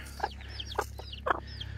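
Baby chickens cluck in three short bursts spaced evenly apart, fairly close, over a low steady background hum.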